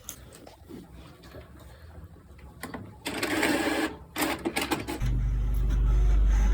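An HP Ink Tank Wireless 419 printer prints an alignment page: rhythmic mechanical whirring and clacking builds into louder feeding bursts, then a steady loud motor drone, close up.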